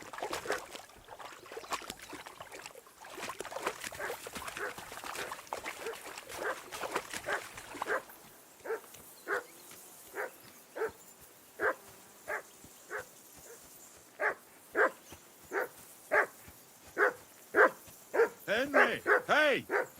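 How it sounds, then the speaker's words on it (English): A dog in a medieval video game world barks in a long run of sharp, evenly spaced yaps, close and loud, over a busier stretch of ambient game noise at the start. "That barking was a pain in the ass."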